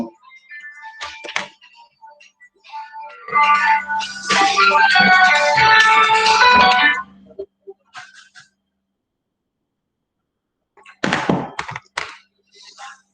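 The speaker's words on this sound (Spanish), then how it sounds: "suena mi teléfono ya" A mobile phone ringtone plays loudly for a few seconds as a melodic electronic tune during an online thermodynamics class, followed by quieter knocks and brief sounds.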